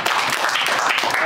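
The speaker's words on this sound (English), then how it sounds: "A round of applause for everybody." A lecture class applauds, a brief, dense burst of many hands clapping at close range with no gaps.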